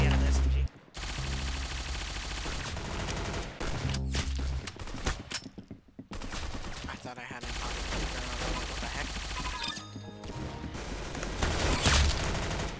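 Rapid bursts of gunfire from Roblox Arsenal, a video game, crackle nearly nonstop with brief gaps between volleys, loud and close, mixed with game effects and occasional speech.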